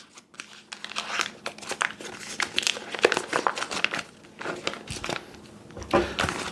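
A block of butter's paper wrapper crinkles and tears in close, irregular bursts as it is peeled open, quiet and without talk.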